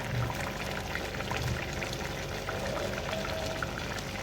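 Ground masala paste goes into a simmering fish gravy, giving a continuous, even bubbling and sizzling that stays constant throughout, with no voices.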